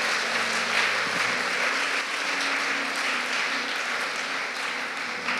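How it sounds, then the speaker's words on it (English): A church congregation gives the Lord a big hand clap, sustained even applause heard at moderate distance, with a low held organ or keyboard tone beneath it. "Will you give the Lord a big hand"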